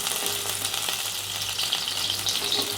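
Onions sautéing in a pan for Chettinad fish curry give a steady, close sizzle with a soft crackle, holding even throughout with no voices.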